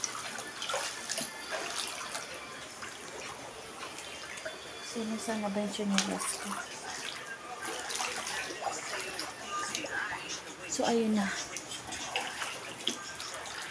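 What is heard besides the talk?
floodwater rising and flowing in a house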